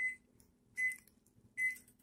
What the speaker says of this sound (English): I hear you over there, microwave. I know you're done.